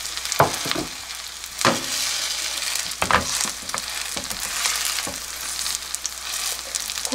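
Skewers of beef, burdock and radish fry in oil in a pan, a steady close sizzle broken by occasional louder scraping and shifting sounds as the food is moved.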